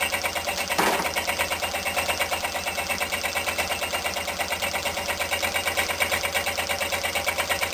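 A homemade Stirling engine runs steadily at over 500 RPM, giving a continuous rhythmic whirring chuff with a fast, even pulse and a slight wobble from imbalance. One brief louder knock comes near the start.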